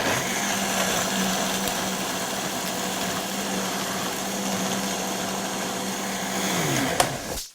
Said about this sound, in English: So we're going to give this some high power blender love.